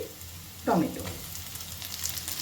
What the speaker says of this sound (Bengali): পেঁয়াজটা একটু নাড়াচাড়া করে এবার দিয়ে দিচ্ছি